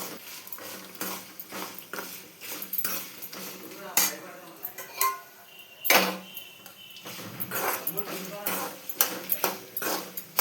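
Spices and cumin are stirred and fried in a pan on low heat for Andhra gongura chutney, with repeated close scraping and clinking of a spoon against the pan over a soft sizzle. A voice talks intermittently.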